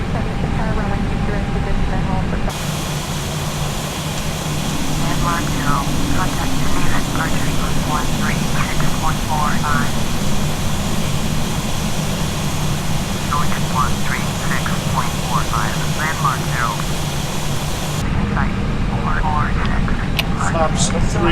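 Airbus A320 airliner on final approach in a flight simulator game, with a steady, loud broadband engine and airflow roar and a high whine throughout, while someone talks over it.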